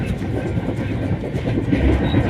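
A train rumbles steadily along the tracks with a dense, continuous roar and faint rhythmic clatter of wheels, heard from inside or close by.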